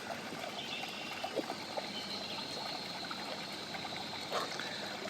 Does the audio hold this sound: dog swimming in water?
yes